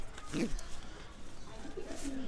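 Soft cooing from Drappa-origin racing pigeons bred from German stock, a few low throaty coos close by in a quiet loft, with a voice murmuring faintly at times.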